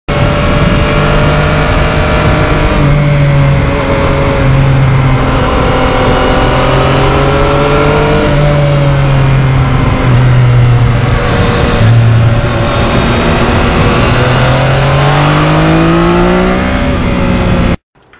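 Motorcycle engine pulling hard through the gears on a ride near Valhalla Ridge in northern New Jersey, a loud, steady close roar with rising pitch sweeps broken by quick shifter gear changes, running continuously without talk.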